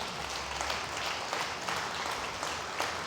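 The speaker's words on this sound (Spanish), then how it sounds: "Dale otro fuerte aplauso a Él" Applause from a church congregation during a sermon, steady and moderately distant, a soft continuous wash of clapping with no one talking over it.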